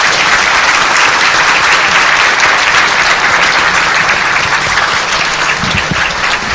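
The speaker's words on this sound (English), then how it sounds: "Can we give another round of applause for our candidates, please?" Debate audience applauding the candidates after a New Jersey 1st District Senate debate, loud sustained clapping from a full room that stays dense and even throughout, tapering slightly near the end.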